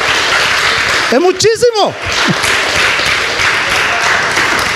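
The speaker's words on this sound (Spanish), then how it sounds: "Damos un aplauso, ¿no?" Congregation applauding during a church sermon, a steady diffuse wash of clapping running through most of the clip, with a preacher's voice briefly speaking over it.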